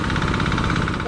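Steady, loud mechanical drone with a fast pulsing throb from a new engine-driven spraying machine running continuously throughout, with no pauses.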